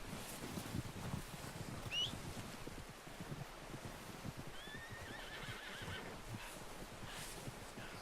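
A horse in Red Dead Redemption 2 gives a clear whinny partway through, set against soft hoof clip-clops, rustling and light wind noise, fairly quiet overall with no talking.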